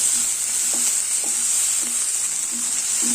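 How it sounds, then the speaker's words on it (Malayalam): Ginger garlic paste sautéing in a pan, with a steady close sizzle and a spatula scraping through it in regular strokes. "ഈ ഇഞ്ചിയുടെയും വെളുത്തുള്ളിയുടെ എല്ലാം പച്ചമണം പോകുന്നത് വരെ ഇതൊന്ന് വഴറ്റി കൊടുക്കണം"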